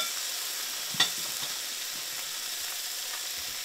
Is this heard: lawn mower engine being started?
no